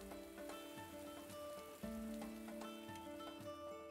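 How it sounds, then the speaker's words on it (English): Steady rain in the video game Atelier Ryza 2 hisses continuously under sustained game music, at an even level throughout. "Is it perpetually raining here?"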